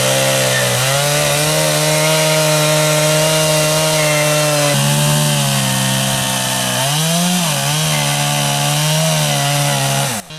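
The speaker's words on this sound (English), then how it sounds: "a chainsaw is brought in to make long, deep longitudinal rips running down the multi-meter length of the trunk" A loud, close chainsaw roars steadily as it makes a long lengthwise rip down a multi-meter tree trunk for wooden boatbuilding, its pitch dipping briefly as the blade bites in deeper.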